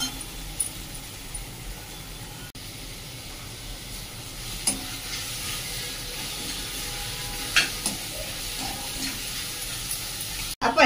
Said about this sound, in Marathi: आपण ही काकडी छान अशी परतून घेत आहोत